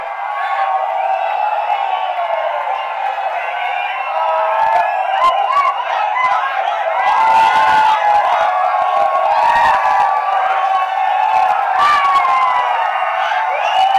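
A large crowd cheers and shouts continuously, with scattered whoops and bursts of clapping rising in the second half, loud and close throughout.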